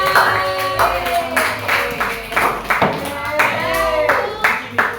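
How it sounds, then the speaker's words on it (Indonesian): Classmates clapping in a classroom after a student's poem recital, a loose patter of hands rising and falling over several seconds while voices talk through it. "Oke, tepuk tangan buat Evinda."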